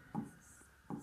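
A pen writes a maths solution on paper in two short scratching strokes, close and quiet.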